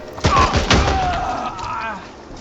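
Gunfire in the video game Chernobylite 2: a couple of sharp, heavy shots with booming decay close together early on, then a fading echo; a voice is faintly present.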